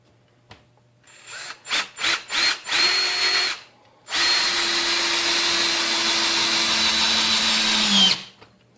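A Ryobi 18V One Plus cordless drill driving a 3-inch deck screw: a series of short trigger bursts, then one long steady whirring run of about four seconds that slows as the screw seats, loud and close with no talking.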